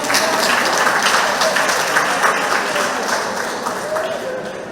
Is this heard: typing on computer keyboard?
no